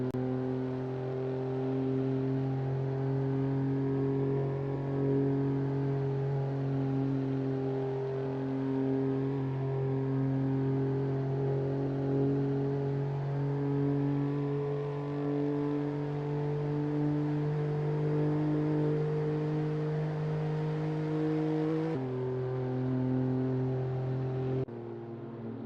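Sim racing race car engine on a flying qualifying lap, a loud steady high-pitched drone holding near-constant revs with a brief dip like a gear change near the end, no talk.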